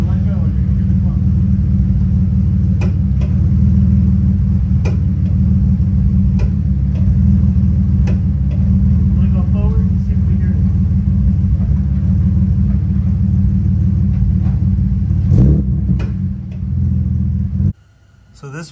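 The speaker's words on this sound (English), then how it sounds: "All I'm going to do is release the clutch until it engages, and I'm going to let go and you're going to hear the clunk." A BMW E46 with a worn differential bushing and cracked rear subframe idles with a steady, loud low rumble, and a single sharp drivetrain clunk lands near the end as the clutch engages.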